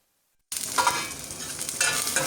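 Capsicum, carrot, potato and green chillies frying in a pan while being stirred, a steady close sizzle with scraping strokes of the spoon and no voices.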